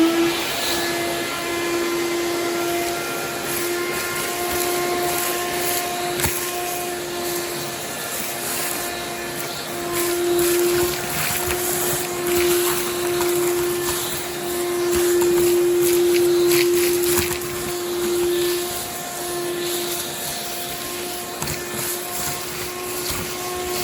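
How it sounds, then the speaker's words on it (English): A vacuum switched on while exposing the structure of a soil sample gives off a steady, loud motor whine with a fixed pitch. It runs continuously, swells slightly partway through, and is heard alone. "I'm going to expose this more here now by turning on the vacuum"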